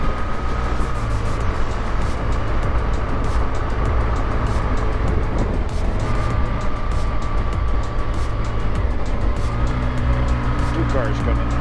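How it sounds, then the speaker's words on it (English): Cars approaching and passing on a rural road near Kaslo, Canada, a loud steady engine and tire roar with rising and falling swells as vehicles go by, heard close from inside a moving vehicle. "Two cars coming."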